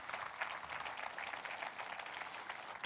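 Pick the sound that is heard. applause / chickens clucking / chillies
applause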